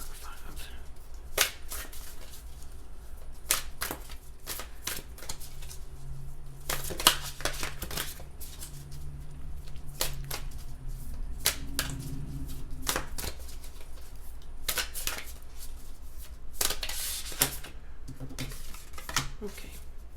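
Tarot cards being shuffled repeatedly, bursts of riffling and slapping spread across the clip, with a voice murmuring now and then in the background.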